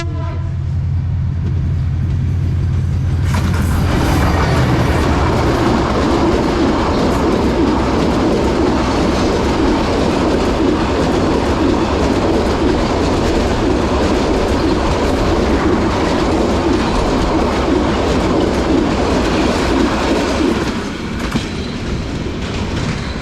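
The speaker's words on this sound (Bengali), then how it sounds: "আপনারা এখন দেখতে পাবেন যে এখন ট্রেন আসতেছে" A fast train crosses a railway bridge, its loud rumbling roar building quickly and holding steady with rhythmic clickety-clack of wheels over the rails, then thinning slightly near the end; a faint pigeon coo sits underneath.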